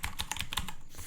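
Quick, quiet keystrokes on a computer keyboard while code is being written, a rapid irregular patter of light clicks close up.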